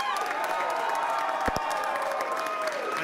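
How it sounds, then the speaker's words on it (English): Large election-night victory rally crowd applauding and cheering, with sustained dense clapping and whoops filling the hall steadily, a voice briefly audible over it. "We'll give our nurses a big round of applause."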